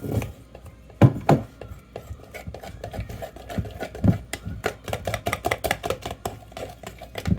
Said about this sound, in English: I'm going to stir that in there